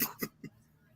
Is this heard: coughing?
yes